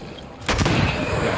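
Enemy gunfire in Banishers: Ghosts of New Eden, quiet at first and then a sudden loud shot with a sustained booming crackle trailing after it.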